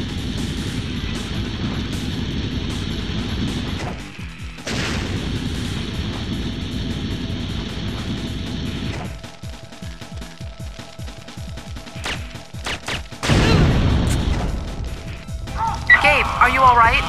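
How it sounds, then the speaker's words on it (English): In the Syphon Filter video game, a flamethrower enemy's fuel tank is shot until it explodes, with loud crashing bursts and gunfire-like blasts, then a roaring burst of flame, over music and game voices. "you have to shoot his fuel tank until it explodes and burns him alive"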